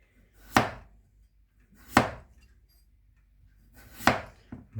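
Knife slicing peeled medium potatoes very thinly on a board, three sharp, separate chops spaced about 1.5 seconds apart, close and clear with quiet in between.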